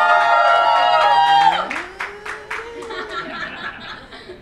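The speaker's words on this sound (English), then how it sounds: "come on, let's give him a cheer" A crowd at a brand promotion event cheers and claps. A loud, sustained whoop and a sung tone come first, then the noise breaks into scattered claps and laughter that fade to a lighter murmur.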